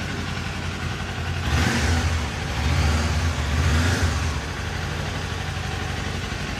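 A new 2025 Kawasaki Ninja 500 SE motorcycle revs up twice from a steady idle, each blip rising to a loud, close roar before dropping back to the idle.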